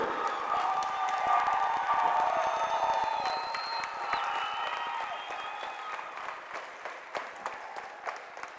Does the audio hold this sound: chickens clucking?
no